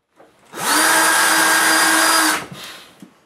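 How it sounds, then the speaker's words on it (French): A power drill boring a hole during workshop construction: a short ramp-up into a loud, steady high whine lasting about two seconds, then it cuts off, followed by faint knocks and handling sounds. "Faut que je perce un trou."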